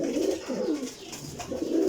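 Pigeons coo in low, soft, repeated throaty phrases close by, with several overlapping calls.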